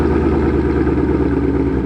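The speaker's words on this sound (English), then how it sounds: "So, it's a Roush exhaust." A supercharged Ford Mustang fitted with a Roush exhaust idles close by, a loud, steady, deep rumble with no voices.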